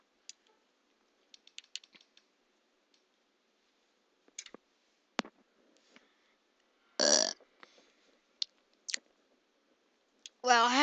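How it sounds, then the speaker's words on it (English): A loud, drawn-out human burp near the middle, with a second gurgling burp at the end, amid sparse clicks and short noises in a quiet room during a Fallout 3 game session. "I already burped."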